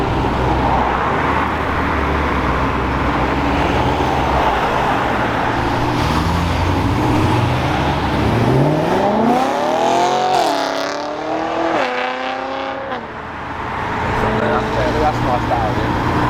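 Classic cars pulling away from Brooklands, one engine rising through several revving gear pulls nearby over steady traffic rumble, while people talk and chatter throughout.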